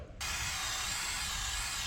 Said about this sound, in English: You can trust me, this is a controlled spray.